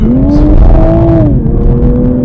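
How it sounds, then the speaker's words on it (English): A 2021 Toyota Supra A91 in sport mode accelerates hard, its engine note loud, close and continuous as the pitch climbs and steadies through the run, with no talking. "in sport mode, if you put your foot down, it really moves."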